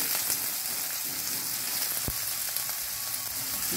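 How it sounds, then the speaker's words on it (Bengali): Onions frying in hot oil in a pan while cooking vegetable biryani, giving a continuous dense sizzle with a single soft knock partway through and no talking. "পেঁয়াজটা দিচ্ছি, পেঁয়াজটা ভাজবো"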